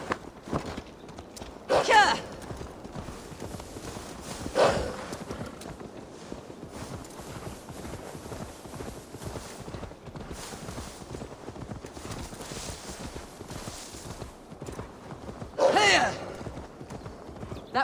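Horse hooves clip-clopping at a steady walking rhythm in the game Assassin's Creed Valhalla, punctuated by three loud close neighs and whinnies spread across the stretch, with speech faintly present at times.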